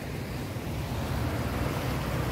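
An overflowing river after a flood rushes past in a steady, broadband roar of flowing water, mixed with some wind noise and no talking.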